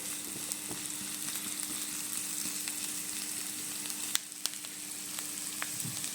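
Chopped onion sizzles and fries in oil in a pan on a stove, a steady soft crackle that carries on alone, with a few faint clicks and clatters partway through.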